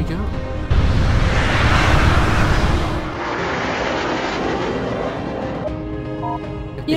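A spacecraft lifting off in the video game Garry's Mod, its loud engine roar kicking in abruptly and holding steady, then dropping to a lower, thinner drone partway through.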